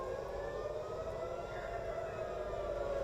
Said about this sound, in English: We'll hear the sirens are now coming.